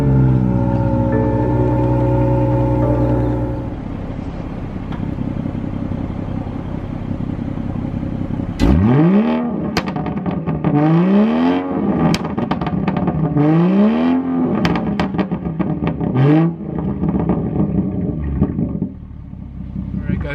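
BMW 440i F36 with M Performance exhaust, engine starting with a loud crank and flare, then settling into idle before several sharp revs that rise and fall, each followed by crackling pops, up close.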